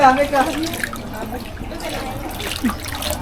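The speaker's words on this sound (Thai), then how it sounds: "ทีนี้ตักน้ำลดก้อนหิน ห้ากระบวย" Water ladled over a stone at a Thai shrine at Mon Kuwen in Chiang Mai, with splashing and trickling pours under a voice talking nearby.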